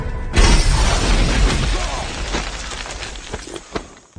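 A sudden loud dynamite blast from a film bursts in with a heavy low boom and crackling debris, then decays into rumbling noise with scattered sharp clatters.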